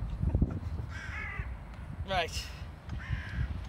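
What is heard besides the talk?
crows cawing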